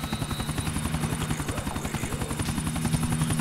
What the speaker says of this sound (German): Eigentlich wollte ich den Heli behalten.